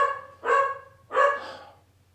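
A dog barks twice indoors, two clear, close barks a short moment apart over a faint low hum.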